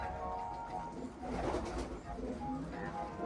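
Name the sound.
racing pigeon cooing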